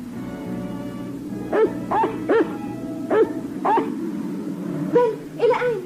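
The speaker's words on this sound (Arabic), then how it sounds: "يا إلهي، الكلب الشرير." A cartoon dog barks and yips in a series of sharp, close calls, about seven in quick uneven succession, over a soft background tone.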